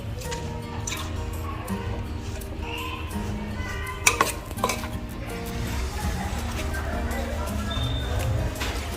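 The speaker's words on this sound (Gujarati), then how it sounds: "થોડો ચણાનો લોટ નાખતા જઈશું અને મિક્સ કરતા જઈશું" Gram flour being stirred into wet bhajiya batter in a bowl, with soft squelching and the occasional clink of a utensil against the bowl. It runs steadily under a continuous tonal background hum.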